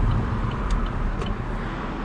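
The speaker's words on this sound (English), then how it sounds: "there's a car coming" A car passes along a road in steady broadband traffic rumble, engine and tyre noise continuous and fairly loud throughout, with a couple of faint high chirps on top.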